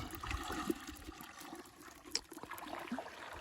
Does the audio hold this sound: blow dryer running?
no